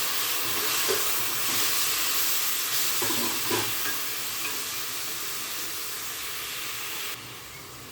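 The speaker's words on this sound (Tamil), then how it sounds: "பாருங்கள் இந்த வெங்காயம் தக்காளி வதங்கிறதுக்காக கொஞ்சம் உப்பு ஆட் பண்ணிக்கலாம்" Onion and tomato sauté in a pan, with a steady, loud sizzle and hiss running throughout and a few faint stirring scrapes, no voices.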